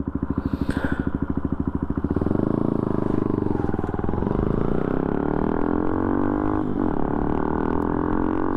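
A Benelli TNT 135 motorcycle pulls away in first gear, its small engine firing in a rapid pulsing beat that rises into a steady, close, loud drone as it accelerates.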